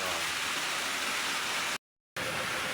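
Dense, steady hiss of rain falling, with a short break of silence partway through before it resumes.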